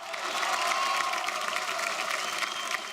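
A reality show studio audience for a song contest claps and cheers together, a dense, even wash of applause with a rising cheer under it, sustained at a fairly loud level.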